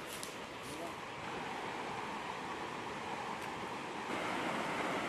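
A stream flows through a park in a small village in Lozère, giving a steady broadband rushing wash that grows slightly louder toward the end, with no clear talk.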